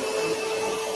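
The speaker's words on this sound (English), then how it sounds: "So next, Mr. Trump, I'm going to need you to vacuum." A vacuum cleaner runs steadily with a constant motor whine and airflow hiss, close and unbroken, with no talk over it.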